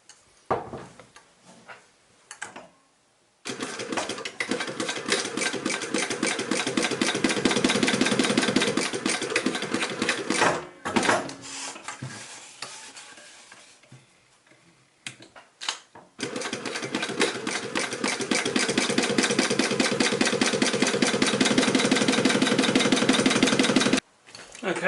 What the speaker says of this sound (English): swap over to this side, and then sew around here.